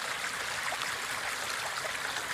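Water trickles and drips steadily through a double-layered t-shirt used as a pre-filter for muddy water, a soft continuous splashing patter with no voices.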